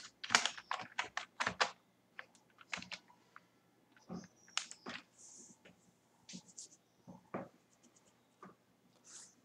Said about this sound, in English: Type here the root username, enter, and type here the root password.